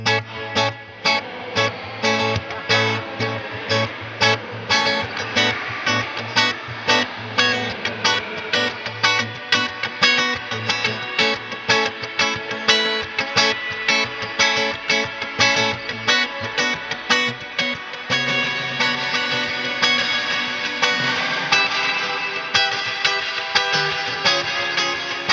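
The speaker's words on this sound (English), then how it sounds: "That was like a spray. Yes, this is the spray reverb." A Strymon BigSky MX pedal set to spray reverb turns rapid, plucked strummed notes into a wash of bright, diffuse reverb that swells and fades, with distorted, dense tails sustaining between strikes.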